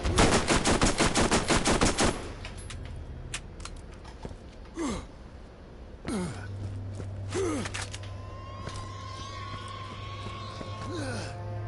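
A fully automatic SMG firing in the video game Borderlands, a fast rattling burst of shots for about two seconds, then scattered game sound effects and grunts.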